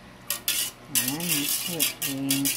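A spoon clinking and scraping against a bowl or pot while mixing cream and evaporated milk for graham mango jelly, a few close metallic taps and a ringing scrape, with a faint voice in the background.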